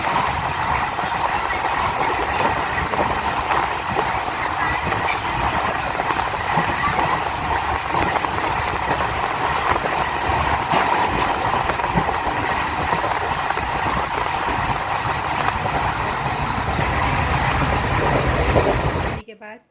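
A moving passenger train on the Jamnagar to Surat route rumbles with a steady, loud clatter that runs unbroken through the whole stretch, heard from inside the carriage.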